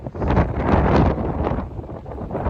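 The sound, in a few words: gusty wind from Storm Darragh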